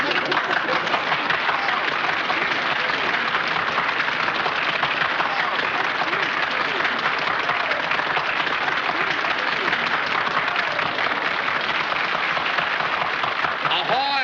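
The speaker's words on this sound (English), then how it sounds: "Mr. Watson, the audience is now applauding you" Sustained applause from an audience in a 1939 film about Alexander Graham Bell, a long, even wash of clapping, loud and unbroken throughout, with a voice faintly audible within it.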